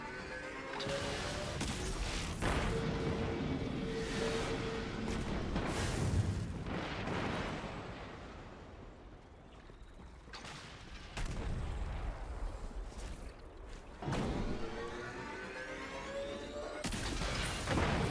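In the sci-fi shooter Destiny 2, an artillery barrage pounds enemy tanks with repeated heavy booming impacts and crashing explosions, spaced every second or two, loud and rumbling with mid-level battle noise between strikes.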